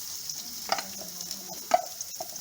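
Onions frying in 1 to 1.5 cups of oil for a beetroot and mutton curry, with two clear stir scrapes and a steady background sizzle; no talking.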